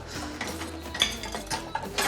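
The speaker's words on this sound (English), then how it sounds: "it looks like they've left some dirty dishes around" Dirty dishes and cutlery clink and clatter as they are gathered up and handled, a run of close, irregular knocks and chinks with no talking.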